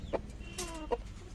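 Hens cluck in a coop after laying eggs, giving two brief, fairly faint clucks about a second apart over low background noise.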